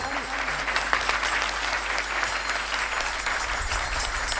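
A kirtan audience claps hands together in a steady, dense wash of applause, loud and continuous from start to finish.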